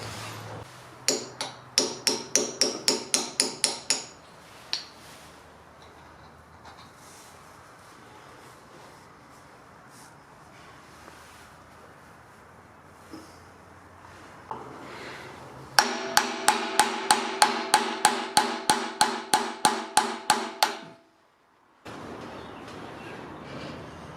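Parts are tapped into place during a Hitachi excavator overhaul: two rapid bursts of sharp, evenly spaced metallic hammer taps, each around a dozen strikes, separated by a quieter gap, then brief silence.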